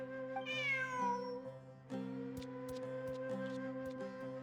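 A cat in Genshin Impact gives a rising, drawn-out meow over sustained musical chords from the game's soundtrack, followed by light plucked notes.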